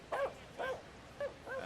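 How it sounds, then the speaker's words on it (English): Dogs on the field at a baseball game give four short, close, high barks and yips in quick succession. "dogs seem to be rather reluctant to go in the direction in which they're being ushered right now"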